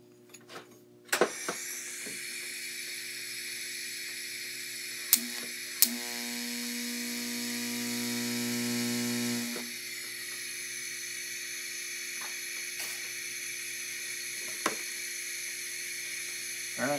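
Tack welding a steel anti-roll bar for a Nova drag race chassis, a steady electric welding buzz with a lower droning hum rising for a few seconds mid-clip, plus a few sharp clicks and taps.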